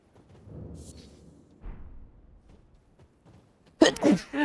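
One sharp, loud human sneeze bursts out at the end, after some quiet talk and muffled background sounds during a video game session.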